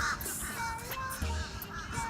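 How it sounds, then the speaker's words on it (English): Large crows cawing outdoors, with repeated harsh calls layered over steady background noise, fairly close and loud. "That's the crows."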